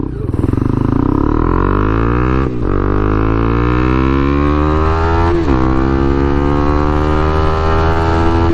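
A 2021 Honda CB300R motorcycle with a Yoshimura exhaust revs loud and close, its engine note climbing and falling in steady sweeps, with two brief throttle blips cutting the drone.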